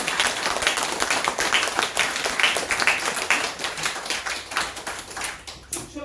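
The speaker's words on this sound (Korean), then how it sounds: "저 뒤에 조는 사람을 위해서 박수 한번 쳐주세요" A lecture audience gives a round of clapping at a seminar on retirement, the claps sounding as many quick, dense taps that carry on steadily for several seconds and then thin out near the end.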